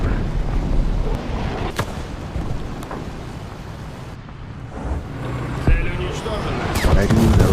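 Explosions in War Thunder around a Pantsir SAM, heavy rumbling blasts and sharp cracks layered over constant battle noise, with a talking voice running through much of it.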